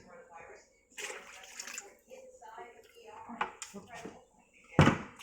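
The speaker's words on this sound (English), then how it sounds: "I have a little bit of liquid left in here. I'm going to just pour it in." Leftover liquid is poured from a vessel into a Berliner Weisse sour beer mash, making brief, faint splashing and trickling sounds. A nearby voice talks at times.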